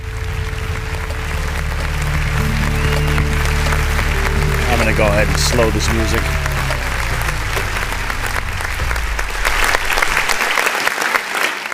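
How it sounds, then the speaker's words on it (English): Sustained crowd applause fills the whole stretch, loud and dense, running under someone speaking over it and alongside steady background music. "Can you give them the big round of applause?"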